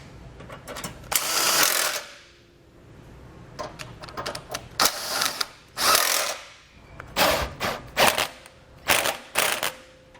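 A ratchet wrench with a 19mm socket tightens the bolts of a crossbar-style tow base plate, giving close, loud bursts of rapid clicking separated by short pauses, with no talking.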